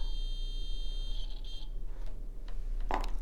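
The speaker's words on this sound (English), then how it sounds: "If there's continuity, then I get a beep." A continuity tester from a soldering iron kit gives a steady high electronic beep for about a second, then fades, followed by a few faint clicks and a short sharp tap near the end.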